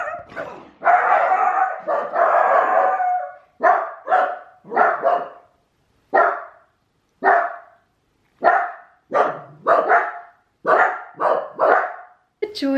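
A dachshund barks close and loud, firing off a long series of sharp, separate barks. They come in quick runs and short pauses, some clustered in twos and threes, with near silence in between.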